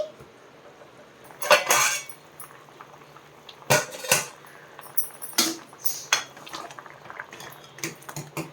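Metal clatter at a pot of mango pulusu as the lid goes on, a few sharp clanks and knocks with quieter rattles between, over a low background hum.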